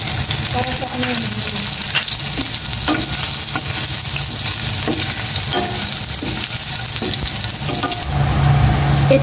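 Onions sauté in a hot pan in a home kitchen. A loud, continuous sizzle runs throughout, with the occasional scrape or clink of stirring and faint voices in the background.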